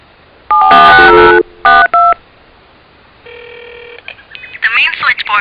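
Touch-tone keypad beeps from a phone in the jungle level of the video game Jurassic Park Trespasser come in a quick burst and then a few more presses, followed by a steady tone and a voice starting to speak.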